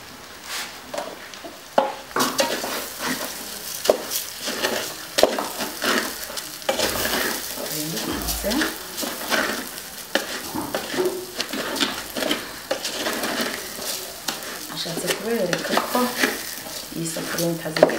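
Meat frying and being stirred in a pot for pilau, with continuous sizzling and frequent scraping and clinking of a spoon against the pan, fairly loud and close, with faint background voices at times.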